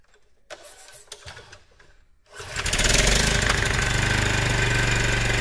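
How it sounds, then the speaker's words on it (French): A small Staub tiller, idle for a long time, is pull-started: a few quiet rope pulls and rattles, then the engine catches and settles into a loud, steady, throbbing run close by. "Je vais tenter le démarrage et normalement, 4 coups de lanceur, grand max, ça doit démarrer."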